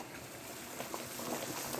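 Water boils in a canner holding jars of pickled melon, a soft continuous bubbling and gurgling heard faintly and steadily throughout.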